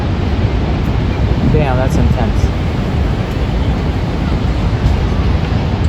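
Roar of Niagara Falls with a tour boat heading in close to the waterfall, a steady broadband rush of falling water filling the scene while people talk over it.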